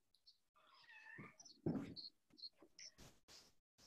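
A house cat meows several times in short, rising calls, close and fairly quiet, with brief pauses between cries and little else around it.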